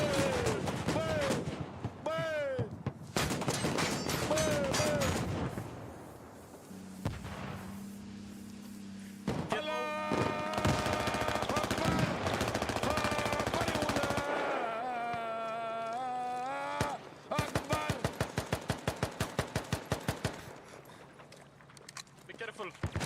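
Gunfire in a war video game, with bursts of rapid automatic shots near the end amid music and game sounds, while several people talk and shout over it.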